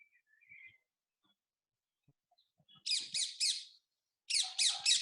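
Parakeet chirping in a quiet room, two quick bursts of three bright rapid chirps each, near and clear, separated by near silence with a few faint soft calls before.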